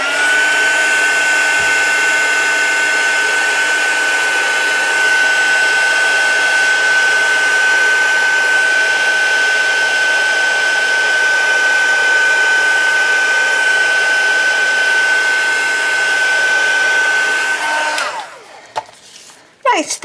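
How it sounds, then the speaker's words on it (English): Heat gun warming embossing powder on paper butterflies, a loud steady blowing whine with a fixed tonal hum that runs unbroken for about eighteen seconds, then cuts off into brief handling noises. "Okay, so let's just heat emboss these last three."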